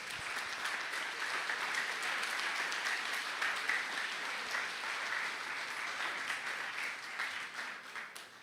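A large church congregation applauds steadily and loudly during a Sunday service, a dense wash of clapping that carries on without a break and fades slightly at the end.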